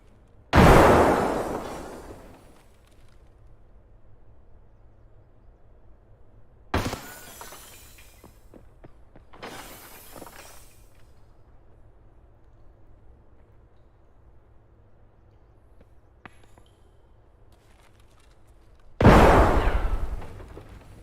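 Grenade blasts in a shooter video game, three or four heavy bursts spaced across the stretch with quiet gaps between, the first and last the loudest and a faint pop in between.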